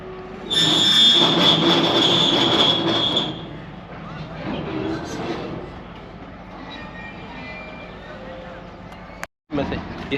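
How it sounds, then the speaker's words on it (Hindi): A freight train rolls past at a railway junction, its wheels loudly squealing high and close at first, then easing into a lower rumbling, clanking pass; a brief dropout comes near the end. "सामने दूसरी फ्रेट ट्रेन आ रही है GU 40 की नीट के साथ आ रही है"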